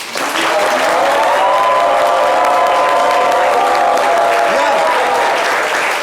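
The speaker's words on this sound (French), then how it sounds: "Merci de vous applaudir bien fort." A large audience applauds loudly and steadily at a music show, with cheering voices mixed in and a dense, continuous wash of clapping throughout.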